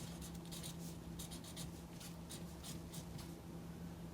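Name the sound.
writing on a chart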